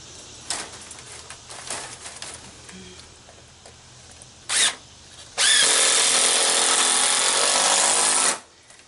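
A power drill drives a screw into a landscape timber on a garden arbor, with a short burst and then a loud sustained whir of about three seconds close by, after some quieter handling noises.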